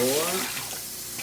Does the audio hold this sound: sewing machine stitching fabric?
no